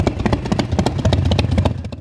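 Vintage motorcycle engine runs steadily at a retro vehicle show in Odesa, a rhythmic mid-pitched chugging and clatter, fairly close and continuous.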